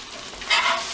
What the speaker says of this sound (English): So we're going to take this steak and flip it one more time.